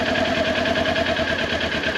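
A motorcycle engine idles steadily as the clutch is eased into the friction zone, giving a constant mid-pitched hum with a faint rhythmic pulse and no talking.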